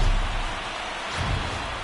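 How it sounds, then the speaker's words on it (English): Rain falls on a ballpark in a baseball video game, a dense, steady hiss with a slight swell near the end and no other sounds over it. "There is rain in the area"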